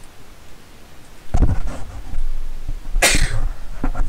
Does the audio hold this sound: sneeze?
yes